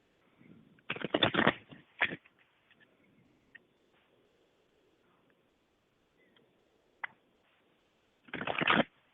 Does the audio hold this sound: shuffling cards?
yes